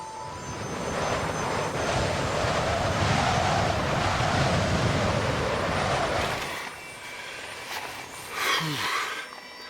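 Strong wind on a cold mountain morning in the Pamir, blowing as a steady broadband roar for several seconds before easing to a quieter gust near the end.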